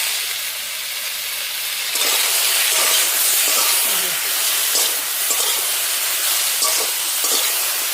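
Chalta pickle with salt and turmeric gets stirred in a hot pan, a loud, steady frying hiss with intermittent scraping strokes throughout.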